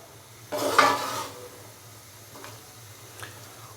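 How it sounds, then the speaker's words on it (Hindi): Carrots and peas are stirred into masala in a pot, giving one short scraping burst of spoon against metal followed by a few faint taps over a quiet background. "अच्छे से हम इसको मिक्स करेंगे"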